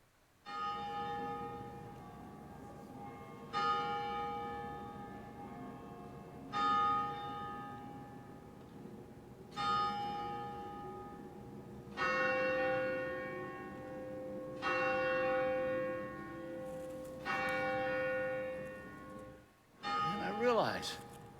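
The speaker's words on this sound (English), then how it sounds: "the bells are still ringing" Church bells toll in a slow, steady rhythm, each strike landing about every three seconds and ringing out in a long, shimmering decay before the next, heard clearly at moderate distance.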